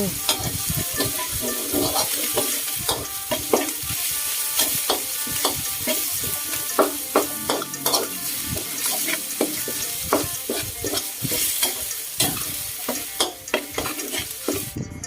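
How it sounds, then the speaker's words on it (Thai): Curry paste and minced pork are stir-fried in an oily pan for a Thai spicy stir-fry with pork balls, giving a steady loud sizzle with frequent scraping and clattering stir strokes throughout. "พริกแกงที่ผัดกับหมูสับดูแห้งไป จะเติมน้ำมันลงไปนิดนึงค่ะ แล้วผัดต่อไปอีกสักแป๊บหนึ่ง"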